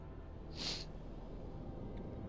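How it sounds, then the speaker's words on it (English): One brief, faint sniffle draws in through the nose, a short hissy inhale against a quiet room hum. "sorry about my sniffles"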